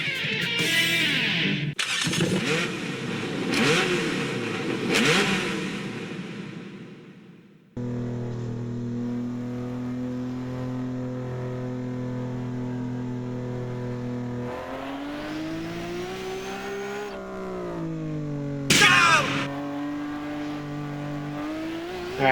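An RBS 13 car in a racing video game on a mountain touge road, its engine revving hard and climbing through rising pitches, then settling into a sustained drone with another surge near the end, loud and up close.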